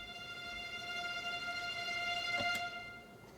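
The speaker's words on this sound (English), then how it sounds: "Then we actually got a long tremolo note on a second violin" A long sustained tremolo note on second violin from an orchestral arrangement of the Final Fantasy VII battle theme holds steady and quiet, with a brief soft percussive hit near the end.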